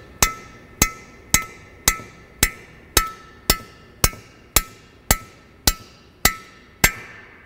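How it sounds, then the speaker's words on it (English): A hammer taps a tool down into an engine's piston bore, thirteen sharp, evenly spaced metallic strikes, each ringing briefly with a bright tone, close and loud with no talking. "I'm just going to take my hammer and tap it down to the bottom of the bore."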